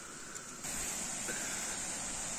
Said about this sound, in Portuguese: Vocês estão ouvindo o barulho da cachoeira?